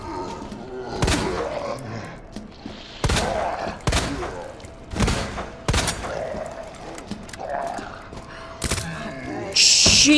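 Grenade launcher fire in Resident Evil 2 Remake gameplay, with a series of heavy booming shots and blasts spaced a second or two apart, loud and close, over game ambience.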